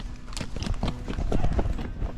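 Horse hooves clip-clop in an uneven rhythm on a hard surface nearby, with a low murmur of voices in the background.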